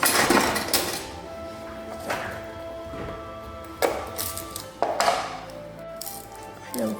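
A knife chops garlic cloves on a board, landing a few separate sharp knocks spaced about a second apart, with faint kitchen clinks between, close by and with no talk.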